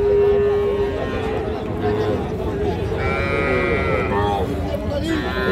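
Cattle low loudly at a market selling young heifer calves and bulls, with a long moo and further calls over crowd chatter and people talking nearby.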